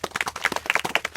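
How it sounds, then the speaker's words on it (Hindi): A group of village children clapping at a community outreach session, a quick irregular patter of many close hand claps filling the moment. "ये भी अच्छी सबके लिए ताली"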